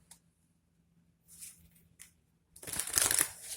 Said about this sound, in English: I'm going to pull like 3 cards.